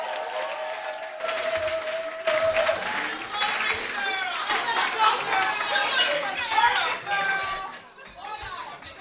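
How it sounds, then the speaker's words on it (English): A crowd at a poetry jam applauds and cheers for a birthday, with clapping mixed into lively chatter, whoops and overlapping voices that swell, then thin out near the end. "Round of applause to Larisha for celebrating her birthday"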